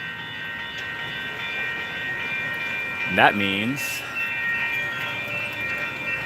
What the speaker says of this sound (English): Oh, we got the train going.